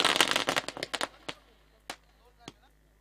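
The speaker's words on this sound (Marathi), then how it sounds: "फटाक्यांच्या आतषबाजीत" Firecrackers pop in a dense, loud crackling string at a cricket tournament final ceremony in Kalyan, then thin out into a few isolated sharp bangs spaced a second or so apart.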